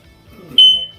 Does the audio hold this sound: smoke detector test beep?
yes